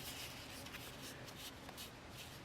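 Paper fold-out card being folded by hand, with soft continuous rustling and brushing of cardstock, close and quiet, no talk.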